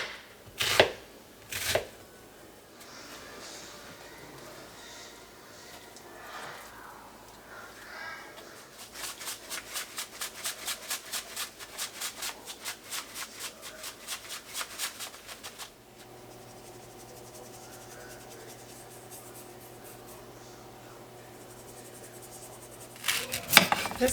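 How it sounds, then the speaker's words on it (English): Onion being chopped with a knife on a board, a fast run of rhythmic taps in the middle after a few scattered knocks, set in a quiet home kitchen with a low hum and some thuds near the end. "I'm going to chop my onion and put it in the pan here"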